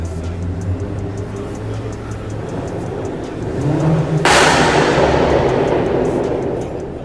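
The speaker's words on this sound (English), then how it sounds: "Y'all hear that? It's because I got intakes on." A BMW 535 with the N54 engine, fitted with aftermarket intakes and a blow-off valve, rumbles steadily close by, then lets out a sudden loud airy whoosh that lingers for a few seconds before easing off.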